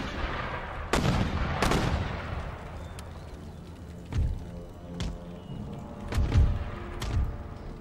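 Artillery and mortar fire boom across an Empire: Total War battlefield in a Courland assault: two sharp nearby cannon cracks, then a string of duller, more distant thuds and rumbles spaced a second or so apart.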